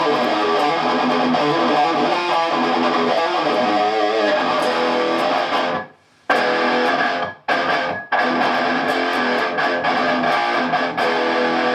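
Distorted Edwards E-FR130GT electric guitar sustaining a loud, ringing wall of feedback, cut off abruptly a few times by short silences from a toggle kill switch before droning on.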